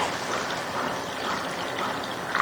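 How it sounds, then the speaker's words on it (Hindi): Water poured into a cooking pot of tomatoes for an egg and tomato dish, a steady trickling, splashing pour that runs close and continuous throughout, with no talking. "2 कप पानी डाल के ना इसको पकने के लिए रख दें"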